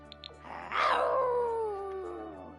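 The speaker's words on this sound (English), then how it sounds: "you won't have to hear the howling like this anymore" Werewolf howl from The Sims 4, a single long rising-then-falling drawn-out wail that fades slowly, preceded by a couple of faint clicks, loud and alone with no talking.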